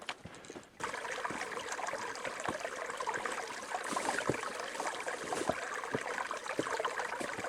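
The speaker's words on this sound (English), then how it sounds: "Just enjoy the sound of the water and relax." A small creek on the Bear Mountain hiking trail in Connecticut flows with a soft, continuous rushing and trickling, faint and steady, with light splashy ticks scattered through after a brief quieter start.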